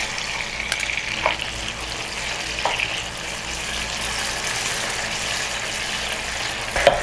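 Tomato paste sizzles in a hot pan for shrimp pasta, a steady broadband frying hiss with a few faint clicks and stirring taps, close and continuous with no talking.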